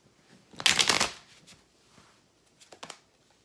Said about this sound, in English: I'm shuffling the Santa Muerte deck.